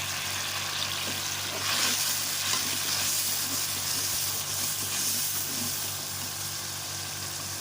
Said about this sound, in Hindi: इन मसालों को अच्छे से करेंगे मिक्स